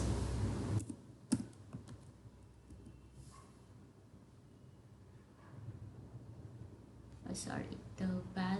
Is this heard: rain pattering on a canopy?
no